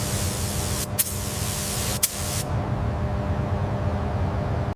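Steady hiss of a spray gun laying satin black paint on the lower chassis of a 2003 red Dewulf R3000 Mega potato harvester, continuous and close, with two brief interruptions before the spraying cuts off.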